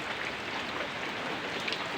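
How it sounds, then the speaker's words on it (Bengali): Rain falls steadily during days of heavy rainfall and flooding in a rural area: a soft, even, distant hiss with no break and no voices. "এখনো পর্যন্ত বৃষ্টি পড়তেছে"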